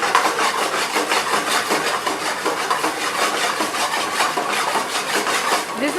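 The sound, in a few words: stirring chicken lollipops in Schezwan sauce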